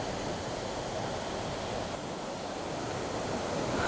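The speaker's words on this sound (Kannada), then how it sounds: "ಸೊ ಭೀಮೇಶ್ವರ ಫಾಲ್ಸ್ ಹೋಗೋ ದಾರಿಯಲ್ಲೇ ನಿಮ್ಗೆ ಇದೊಂದು ಫಾಲ್ಸು ಸಿಗ್ತದೆ" Roadside waterfall on the way to Bheemeshwara Falls in Karnataka, a steady broadband rush of falling water with some wind buffeting the microphone, constant and loud with no voices.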